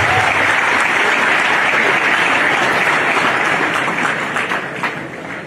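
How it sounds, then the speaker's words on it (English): A large audience at the 143rd speech day of Mfantsipim School applauds loudly and continuously, a dense wash of clapping that fades slightly toward the end. "Shall we give you an applause, please?"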